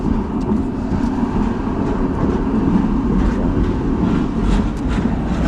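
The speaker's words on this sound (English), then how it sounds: "This is a beautiful tram." A tram rolls along a street in Budapest, with a steady, loud rumble of wheels on the rails that fills the scene throughout, and no voices over it.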